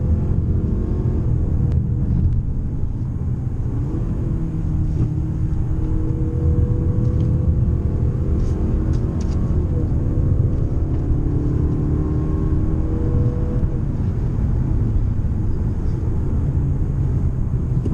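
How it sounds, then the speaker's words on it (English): A 2018 Mazda6 Touring with its non-turbo engine hums and rumbles from inside the cabin as it drives through corners, the engine note rising and falling smoothly over a steady road roar, with no voices. "I'm just gonna have you guys watch me go around some of these corners."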